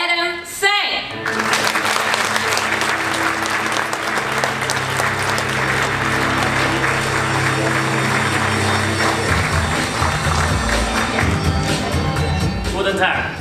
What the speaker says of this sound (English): please welcome him with a huge applause, the CEO of ZTE Mobile Devices, Adam Tsang